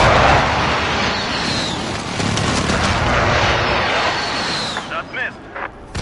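Incoming airstrike explosions in a battle-royale video game, a dense, loud barrage of booming blasts rumbling continuously before breaking into a few separate thuds near the end, with speech mixed in.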